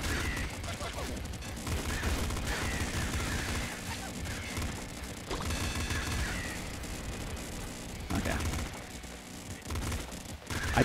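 Rapid pop gun fire from the Nuclear Throne Ultra Mod shotgun run, a dense stream of small shots crackling steadily over busy game music and effects throughout, with a few sharper bursts near the end.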